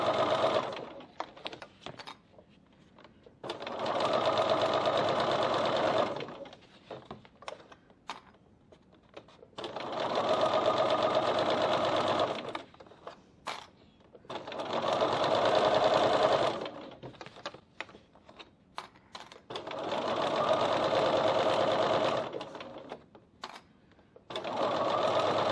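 A sewing machine stitching cork bag straps runs in four long, steady bursts with short pauses and small clicks between them, close and loud, with no talking.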